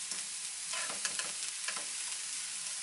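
Onion and shallot sizzle steadily in a pan, with soft scraping and stirring strokes mixed into the constant frying hiss; close and moderately quiet, no talking.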